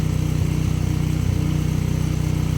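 A small engine idles steadily and close by, with an even rapid pulsing throb and a rough, low rumble that holds constant throughout; no talking.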